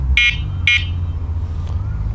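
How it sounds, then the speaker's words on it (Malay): Two short electronic beeps from the horn of an electric scooter converter attached to a manual wheelchair sound close and loud in quick succession, followed by a fainter third blip, over a low steady hum. "Lepas tu ada horn."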